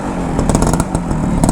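A vintage 125cc Kawasaki motorcycle in stock condition sputters to life with a loud, close, rough clatter of rapid engine pulses.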